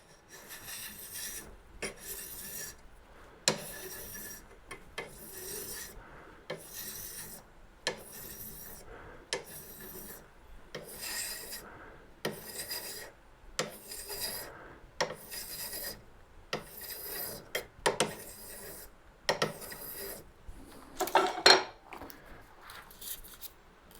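Repeated rasping strokes of sandpaper rubbing on wood, steady back-and-forth rhythm for a long stretch, close and fairly quiet, with no talking.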